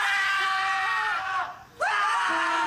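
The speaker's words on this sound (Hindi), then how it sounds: "आठों बॉयज चिल्लाते हुए वहां से भागते हैं।" A group of boys scream together as they run away, a loud sustained chorus of high-pitched yelling that breaks off briefly and then resumes.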